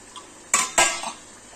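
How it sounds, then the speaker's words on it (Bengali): A metal lid lifts off a pot of chicken cooking with capsicum, making two sharp clanks close together, followed by a softer metallic knock, all close up and without speech. "এবার আমি ঢাকনাটা তুলছি মাংসের"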